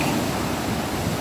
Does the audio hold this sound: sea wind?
yes